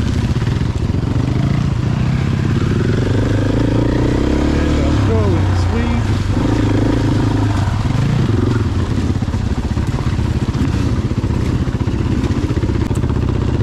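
A Husqvarna dirt bike rides along a single-track mountain trail, its engine droning loudly and rising and falling as the throttle changes, with a voice talking over the motor.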